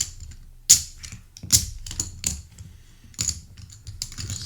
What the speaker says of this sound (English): Shuffle these up a little bit.